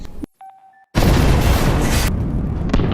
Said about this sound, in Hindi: उधर जो भी धमाका कर देता है